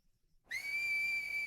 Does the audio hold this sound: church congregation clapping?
no